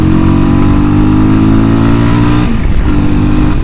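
A Voge 300 Rally adventure motorcycle's engine drones loud and close in a steady, climbing tone, then dips briefly as it downshifts and picks back up.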